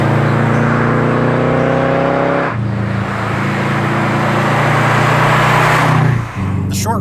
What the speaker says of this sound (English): its unequal length exhaust manifold creates a unique low-pitched rumble.